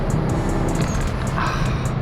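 A Toyota Levin with a swapped 3S-GTE turbo engine accelerates, producing a continuous, loud engine drone heard from close by inside the car.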